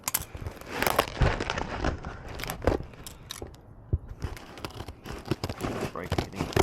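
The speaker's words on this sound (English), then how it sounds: "And then obviously I've got the fire extinguisher bracket itself, so I will cut it open real quick." Packaging being cut and torn open around a fire extinguisher bracket for a Ford Fiesta MK6: close, irregular crunching, snipping and rustling bursts with brief pauses.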